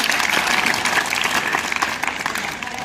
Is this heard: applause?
yes